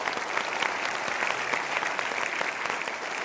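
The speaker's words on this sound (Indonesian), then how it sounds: "Kita berikan tepuk tangan" A steady wash of dense applause from a studio audience at a motivational talk show, moderately loud and even throughout with no talking over it.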